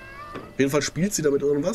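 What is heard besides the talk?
cat meowing in the video game Hello Neighbor 2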